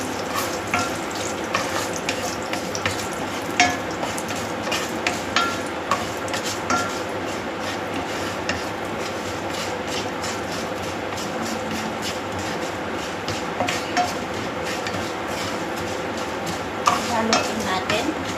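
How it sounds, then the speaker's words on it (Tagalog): Curry leaves and beef khema sizzle steadily in a hot pan while a utensil stirs and scrapes through it, continuous and close, with no talking. "Haluin natin."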